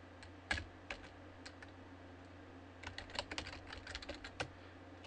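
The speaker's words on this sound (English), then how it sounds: "Sorry, I have to type." Computer keyboard typing during an iPhone audio programming session, faint scattered keystrokes that thicken into a quicker run of taps over a low steady hum, with no talking.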